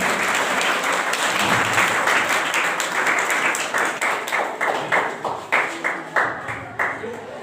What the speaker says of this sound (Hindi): जोरदार तालियों से इनका अभिनंदन करें।